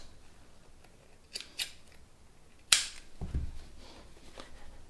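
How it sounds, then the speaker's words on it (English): Scissors snip yarn ends on a knitted wool jumper during a repair, a few sharp close cuts spread out, one much louder than the rest, over quiet handling sounds. "now if I trim some of these ends"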